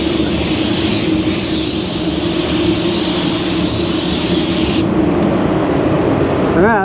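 A spray gun lays a coat of red automotive paint, producing a loud, steady, close hiss that runs continuously for several seconds before cutting off, leaving a lower background hum.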